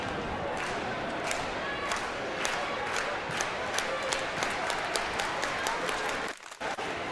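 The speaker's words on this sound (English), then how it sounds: "Let's get the clap going." A crowd at a Bay State Conference league meet keeps up a rhythmic, evenly spaced clap with a broad wash of crowd noise beneath, breaking off briefly near the end.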